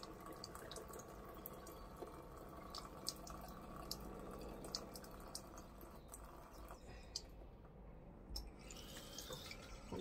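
Hog casings are rinsed in water, with faint trickling and a series of small drips and splashes spread irregularly over a quiet background, no talking.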